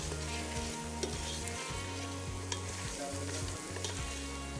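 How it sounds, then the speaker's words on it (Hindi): Masala frying in a pan for arvi gosht, a quiet continuous sizzle with occasional stirring scrapes, no voices. "चलें, ये मसाला हमारा भुन गया है।"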